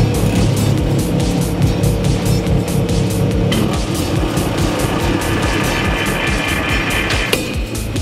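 Vehicle crash sounds from a video game vehicle crusher experiment, a continuous loud grinding roar of engine and scraping metal with dense clattering impacts throughout, no talking.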